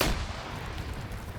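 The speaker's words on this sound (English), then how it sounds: "We'll throw a grenade." A grenade goes off in a zombie-campaign shooter game: one loud, booming blast right at the start, then a rumbling roar that fades slowly.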